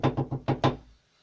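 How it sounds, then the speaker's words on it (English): Five firm knocks rap on a door in a quick uneven rhythm, close and distinct, then fade into silence. "just then, there was a knock at the door."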